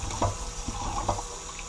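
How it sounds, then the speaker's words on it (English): Running tap water rinses raw chicken after a vinegar-water wash, a steady close splashing flow with a few louder gurgles and drips over the sink. "Vinegar water, and then we're going to rinse our chicken again."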